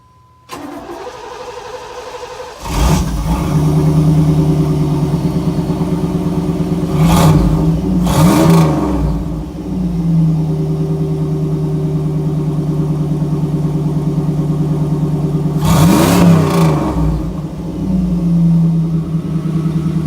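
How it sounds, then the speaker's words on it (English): A 1992 Chevrolet Camaro, a third-generation car, cranks and fires up, then settles into a loud steady idle close by, with two sharp revs blipping the engine partway through and no talk. "so it started up the 92 Camaro"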